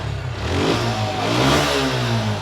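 A Suzuki Gixxer Monotone double-disc motorcycle engine catches and revs, a close, loud mid-pitched roar climbing in pitch then settling into a steady throb, with no voices.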